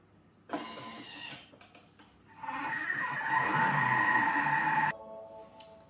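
A kitchen food processor runs at speed 2, mixing muesli ingredients: a close, steady motor whir with tonal hum that starts, dips briefly, then surges louder for several seconds before cutting off.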